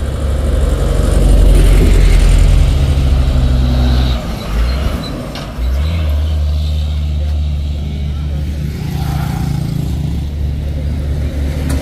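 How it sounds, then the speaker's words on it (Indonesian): Two parcel delivery trucks grinding up a steep hill at Bukit Kodok, a loud, heavy diesel drone that dips briefly and then resumes, with people talking over it. "Ada 2 truk paket."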